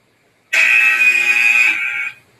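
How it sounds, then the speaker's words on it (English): An iPhone workout timer sounds its go signal, a basketball-style buzzer: one loud, steady electronic buzz lasting under two seconds, then it cuts off into silence. "that is the go buzzer. It's the buzzer like a basketball game."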